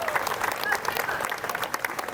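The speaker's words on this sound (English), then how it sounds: "Let's give these folks another round of applause." A parade crowd in O'Fallon, Missouri claps in a steady burst of applause, with a voice over a loudspeaker talking above it.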